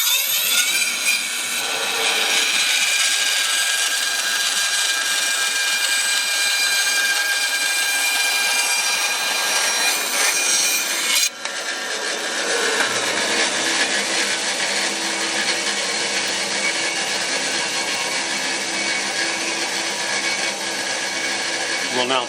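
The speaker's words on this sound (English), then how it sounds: "over at the bandsaw, using this little V-groove jig, I'm going to line this up with the blade and then cut the" A bandsaw slices a cigar pen blank in half in a V-groove jig, a loud continuous whining motor with a steady cutting buzz that shifts in tone midway as the cut changes, close and sustained.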